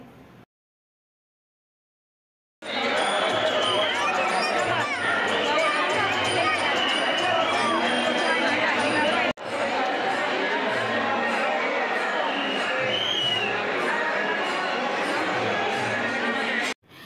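Dense crowd murmur at the Dagdusheth Halwai Ganpati pandal in Pune during the Ganpati festival, a steady loud wash of many voices and shuffling that cuts out briefly, then resumes unchanged.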